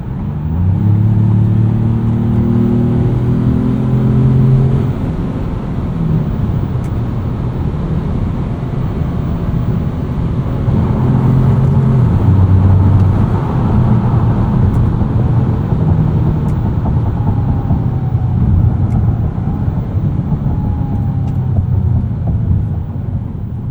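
A 2025 Ford Maverick Lobo cruising on a highway at about 70 mph: steady loud engine and road drone with a low hum and tire roar, rising slightly in the middle, and no voices over it.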